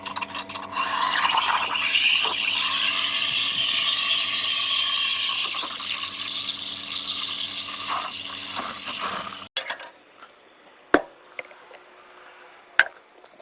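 A single-group La Rocca Verona Express commercial coffee machine meters its water dose with a loud, steady mechanical hum and whir for about nine seconds. It then cuts off, leaving a quiet tail broken by two sharp clicks.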